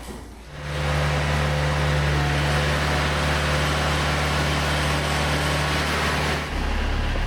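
A tractor engine runs at a steady, loud, close drone with a constant low hum, holding level for several seconds before easing slightly at the end, with no voices.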